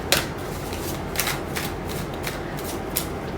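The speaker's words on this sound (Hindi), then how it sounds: "मैं एक बार फिर से निकालूंगी कार्ड" A deck of tarot cards being shuffled by hand, with a run of soft, crisp flicks and riffles repeating at an uneven pace, close and fairly quiet, with no voices.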